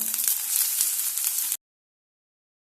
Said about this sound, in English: and on a high flame saute them